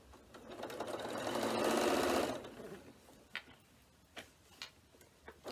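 A Janome domestic sewing machine stitching a bag zipper runs in a steady close whir for about two seconds, then stops, leaving a few scattered light clicks and ticks.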